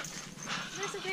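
A young collie lab mix dog gives brief, soft whining yelps, fairly quiet and close, with a person talking over it.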